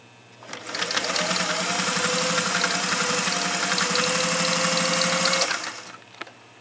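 A Singer 404 sewing machine stitching through 10 layers of canvas binding tape, starting up to a steady rapid mechanical chatter that runs about five seconds and then stops, followed by a faint click.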